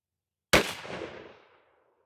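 A single sharp blast from a Stevens 301 20-gauge shotgun firing a 3-inch Winchester Longbeard TSS shell of #8 shot fitted with a Patternmaster choke, close and loud, its report decaying over about a second.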